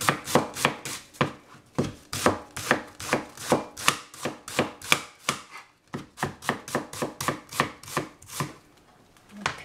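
A purple onion chopped with a knife on a cutting board, rapid sharp rhythmic thuds in steady bursts with a brief pause midway, close and alone.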